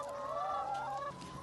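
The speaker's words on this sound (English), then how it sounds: "As you can see, our chickens love being outside." Chickens cluck and warble softly nearby, a few overlapping calls over a light outdoor background with no talking.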